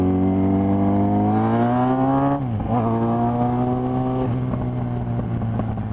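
A Yamaha XJ6N inline-four motorcycle on the move gives a loud, steady, buzzing engine drone. Its pitch climbs, dips sharply at a gear change and then settles into a smooth cruise.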